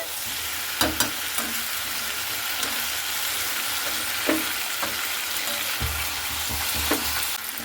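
Chicken pieces and potatoes fried in a pan, a continuous bright sizzle broken by several sharp scrapes and knocks of a spatula as they are stirred.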